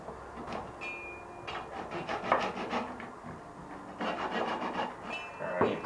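Hand-cutting a piece of material meant as the brace for a homemade cell phone stand: rough, rasping back-and-forth strokes in bursts, fairly close and steady, with short pauses between runs.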